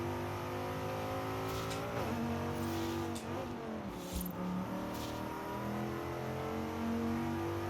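Car engine in Forza Horizon 5 screaming up to its redline, a loud sustained rev with rising harmonic sweeps and a brief dip and recovery midway, heard alone without talk.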